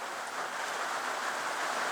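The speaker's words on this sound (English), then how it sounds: "Wet and raining" Rain falling outside on a wet day, a soft continuous hiss of drops, faint and even throughout with no voices.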